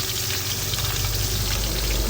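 Dried milkfish (daing na bangus) frying in hot oil, giving a steady, close sizzling hiss with a low crackling rumble that holds evenly throughout without pauses.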